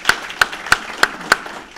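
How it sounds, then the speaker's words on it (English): Five sharp, evenly spaced hand claps at a county commissioners and school board joint meeting, close and distinct with brief quiet between each clap. "So I'm going to give you a hand clap."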